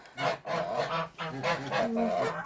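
Loud, close domestic geese honking almost continuously, several nasal calls overlapping in quick succession.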